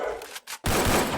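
Gunfire crackles in a Lone Wolf mode battle royale mobile game, a dense burst of shots, a short gap, then sustained rapid fire, loud and close.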